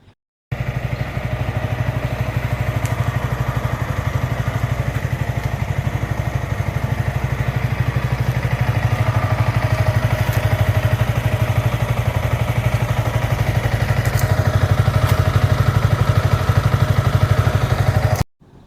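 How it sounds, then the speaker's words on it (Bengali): A motorcycle engine, freshly flushed, runs at a steady idle close by. The low, even putter holds for most of the stretch before it cuts off. "ফ্লাশ করার পরে বাইকের সাউন্ড একদম চেঞ্জ হয়ে গিয়েছে"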